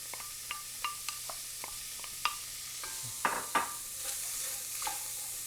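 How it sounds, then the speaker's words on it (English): Onions for a vegan, gluten-free gumbo sizzle in a pan on the stove with a low, steady frying hiss, punctuated by light clicks and scrapes of a utensil stirring. "Now we're going to go back to the stove. And we're going to throw in the onions."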